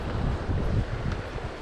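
Steady wind buffeting the microphone beside a river while fly fishing, a continuous low rumbling roar throughout with no voices.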